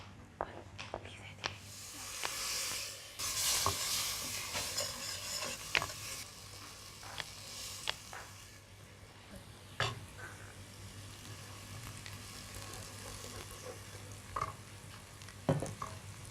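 Fat cakes frying in oil, a soft continuous sizzle broken by scattered clicks and scrapes from stirring or turning, fairly quiet with a low steady hum underneath.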